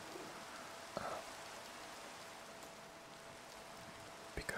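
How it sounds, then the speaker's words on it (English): Constant rain from the Minecraft weather effects, a soft, even hiss of falling drops with a couple of brief faint knocks, quiet and steady, without talk. "we also have rain. That's perma rain,"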